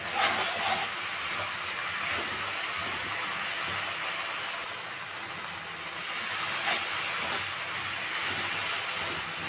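Spices for a thin singi (stinging catfish) curry sizzle and fry steadily in a hot pan, a continuous hissing sizzle that holds at one level throughout with no talking.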